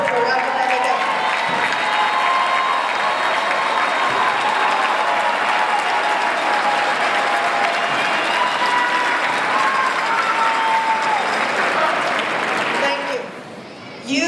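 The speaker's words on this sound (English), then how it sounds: "offer them a round of applause for their support for our academic efforts" A high school graduating class at a 2018 commencement ceremony applauds parents and teachers: sustained dense clapping with scattered cheers and voices from a large crowd, steady and loud before fading near the end.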